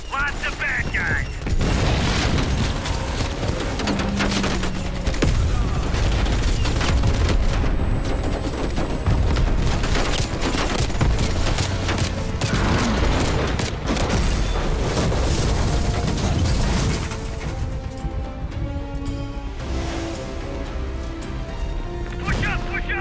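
Sustained gunfire and explosions in the Call of Duty: Black Ops Cold War campaign finale, heavy booms and mechanical clatter layered over constant shooting, loud throughout with voices shouting over the battle.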